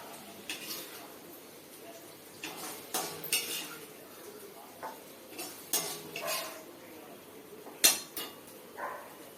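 Utensils clink and scrape against dishes while okra curry (ladies finger kari) is moved into a serving dish, leaving a scattering of light, irregular metallic taps and knocks close by, plus one sharper clink near the end and no talk.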